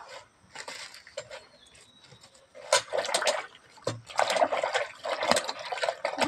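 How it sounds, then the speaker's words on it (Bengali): Leaves being washed by hand in water in a village kitchen, with irregular splashes, sloshing and dripping in bursts that grow busier and louder toward the end, close by with no talking. "এবার পাতাগুলো জলে ধুয়ে নেবো।"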